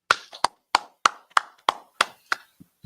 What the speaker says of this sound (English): clap, clap it up.